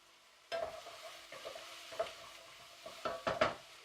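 Diced sofrito vegetables for a shepherd's pie cook in a pan, with a soft sizzle beneath a few scattered stirring scrapes and utensil taps against the pan.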